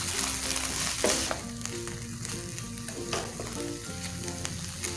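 Small cubes of chicken for desi shawarma sizzle steadily in a hot pan, half cooked, with occasional stirring clanks and scrapes over a continuous close frying hiss.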